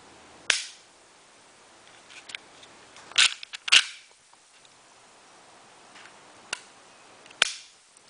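The Apex trigger of a Smith & Wesson M&P Shield 9mm pistol is pulled, producing sharp, close mechanical clicks spaced a second or more apart, with faint handling noise between them and no voices.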